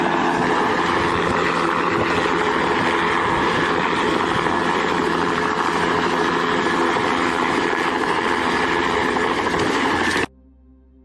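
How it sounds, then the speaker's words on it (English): A rescue helicopter at the site of an earlier helicopter crash runs with a loud, continuous engine and rotor roar that holds steady for about ten seconds, then cuts off abruptly. "a helicopter arrives at the scene where another helicopter had crashed a week earlier"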